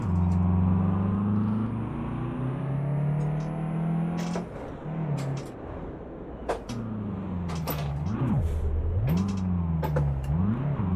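A car engine in a driving game, played with a homemade steering wheel, whines and revs in rising and falling tones, climbing steadily, dropping on a shift, then surging up and down in repeated swells, with occasional clicks and knocks over it.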